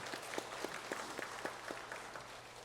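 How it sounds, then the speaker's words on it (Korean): A church congregation gives a soft, distant round of applause to the choir after a hymn, the claps falling into a loose, even rhythm before gradually thinning out. "우리 귀한 찬양으로 우리 모두에게 은혜를 끼친 찬양대에게 다시 한번 큰 박수로 한번"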